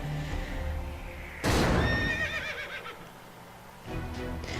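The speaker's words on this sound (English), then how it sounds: "It's spooking the horses." Spooked horses neigh sharply in a loud burst after a volcanic bomb lands, with whinnies trailing off over rumbling background and faint hoof clatter.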